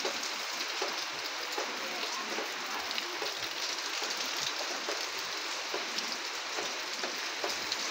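Heavy rain falling outdoors, a dense, steady hiss with scattered drops tapping on surfaces nearby, constant and fairly loud throughout with no talking.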